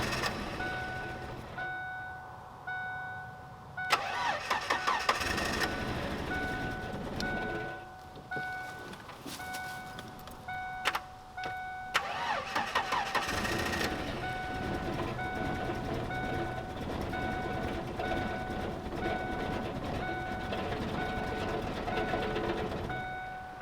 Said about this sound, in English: If I can't get it to crank, we gonna move on to the next thing.